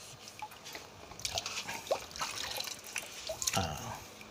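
Ripened mangoes are washed by hand in plain water to rinse off their sap, giving close, soft, irregular splashes and drips with short bursts of sloshing.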